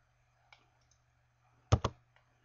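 Computer keyboard keys pressed while entering a command in drafting software: a faint tap, then two sharp, close clicks in quick succession against a low steady hum.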